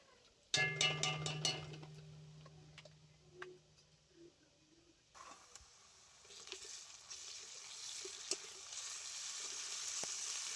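Ginger paste dropped onto onion and garlic frying in a pan, a ringing clatter of a spoon against the vessel first, then a quiet pause, then a rising steady sizzle with scattered pops and crackles, close up and without talk.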